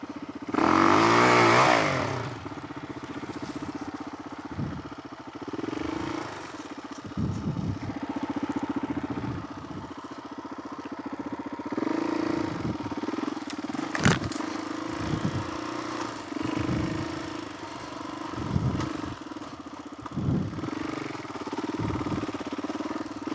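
A Suzuki DRZ400E dirt bike bored to 470 rides through tight trails on a hot day, its single-cylinder engine blipping and revving in short bursts over a steady idle-like chug, with occasional clatter.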